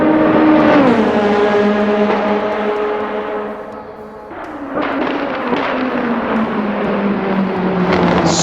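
An LMP2 race car engine in the video game Assetto Corsa roars loudly and steadily, its pitch sliding down as it lifts off around the middle, then climbing back up under hard acceleration.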